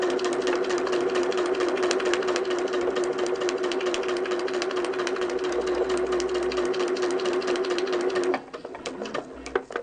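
Sewing machine running fast stitching straight basting lines across a quilt, a steady close whirring rattle with a sustained motor tone that stops near the end, leaving a few faint clicks.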